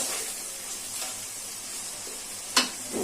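Snakehead fish frying in spiced masala and being stirred, a soft continuous sizzle with one sharp clink of the utensil near the end.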